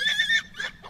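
A horse whinnies loudly and close, a high quavering call that breaks off and returns in two shorter bursts.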